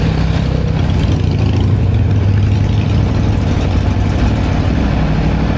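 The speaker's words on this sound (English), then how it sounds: "Can you hear that? Bike's making weird noises." A brand new 2025 Aprilia Tuono motorcycle idles loudly and steadily up close, a dense low engine rumble that holds unbroken throughout with no speech over it.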